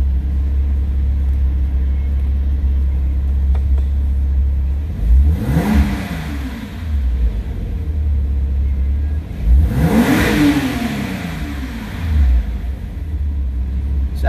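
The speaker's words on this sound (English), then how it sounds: "let's go ahead and give the car some revs." A 2007 Porsche Cayman S engine idles, then revs up twice in sharp bursts, each climbing and falling back to a low rumbling idle.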